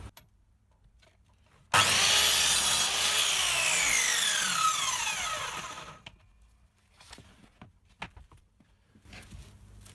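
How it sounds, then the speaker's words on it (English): Timber roof battens for a Mercedes Sprinter camper van conversion being sawn to length, a loud continuous rasping cut of about four seconds that starts abruptly and fades, followed by faint knocks and handling noises. "That's all the roof battens cut to length."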